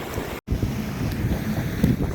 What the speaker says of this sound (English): Look at how the water is flowing now.